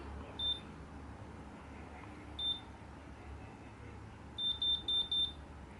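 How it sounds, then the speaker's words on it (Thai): High electronic beeps from a Babyliss Pro Perfect Curls automatic hair curler: two isolated beeps, then four quick beeps in a row signalling the curl is done, over a low background hum. "ถ้าปิ๊บติดติดกันอย่างนี้แสดงว่าเสร็จแล้ว"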